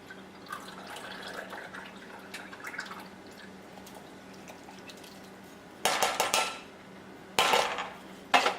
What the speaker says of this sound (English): I'm still going to drain the liquid out